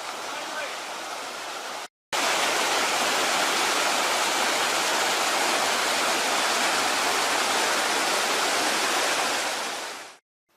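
A river rushes past a bush camp on a Birdsville to Cape York trip, a loud, even broadband flow that briefly cuts out near the start.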